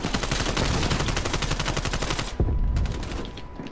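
Rapid, sustained automatic gunfire in Call of Duty: Black Ops Cold War, a dense, loud burst of shots that runs for several seconds with one heavier blast near the end and no talking over it.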